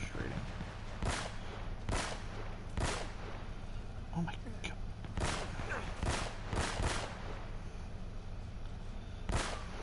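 Scattered gunshots from the video game Uncharted: Drake's Fortune crack out in separate bursts against a steady background, moderately loud, with a voice talking in between.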